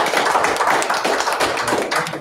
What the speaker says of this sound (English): I just want to provide you with a round of applause